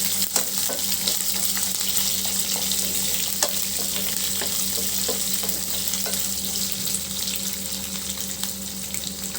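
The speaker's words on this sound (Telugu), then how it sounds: "ఇప్పుడు చిట్టపట్టం అంటుంది" Chopped ingredients for a beetroot fry crackling in hot oil, a steady close sizzle dotted with sharp pops and spattering over a low background hum; no voices.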